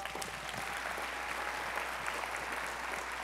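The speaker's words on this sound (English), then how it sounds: "Let's all give Chris a round of applause" Steady, dense applause from a keynote conference audience honoring a participant, sustained evenly throughout at moderate distance with no talk.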